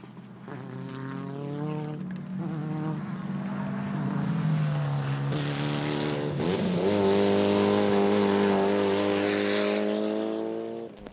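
A race car at Serres Circuit roars past close by, its engine note climbing and shifting through the gears as it accelerates. The sound is loud and sustained, swelling to a peak and holding strong through the end.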